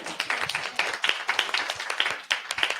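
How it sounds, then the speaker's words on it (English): Scattered clapping from a small audience at a community social justice event, a handful of distinct hand claps ringing out unevenly, fairly quiet and thin rather than a full ovation. "Another round of applause."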